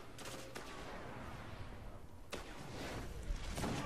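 Auto rifle fire in the video game Destiny rattles in bursts during a Crucible match, with several sharp cracks standing out against dense, continuous shooting.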